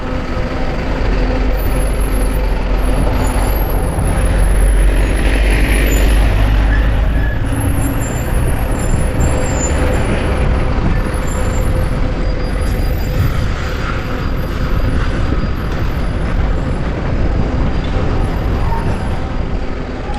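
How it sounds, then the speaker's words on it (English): A Mercedes city bus with air brakes on a São Paulo street, heard close and loud as a steady, dense roar of engine and road noise with hissing, lasting throughout without a break. "This bus, if you want to go to town, you use this bus. It's a Mercedes brand."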